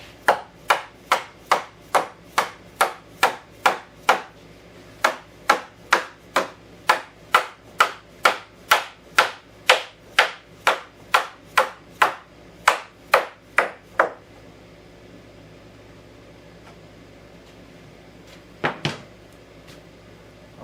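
Hammer blows tapping a wooden breadboard end onto a farmhouse table during a glue-up with mortise and tenon joinery, a steady run of about thirty sharp knocks, then quiet and two final taps.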